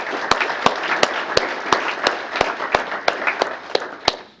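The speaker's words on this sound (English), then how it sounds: "let's have a round of applause for him" Applause from an audience at a city mayor's employee recognition awards ceremony, steady mass clapping filling the room with a few sharper, nearer claps standing out at a regular beat.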